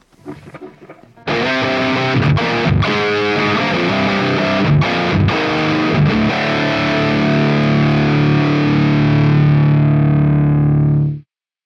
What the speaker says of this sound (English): here's the riff with no doubler enabled